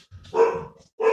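Dogs bark nearby in two sharp, loud yapping bursts separated by a brief pause, clear and alone with no talk.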